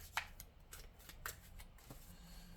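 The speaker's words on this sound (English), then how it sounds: "One more shuffle to check." Tarot cards are shuffled by hand, giving a few quiet, brief riffling and flicking bursts with soft rustles between them, close up and without any talking.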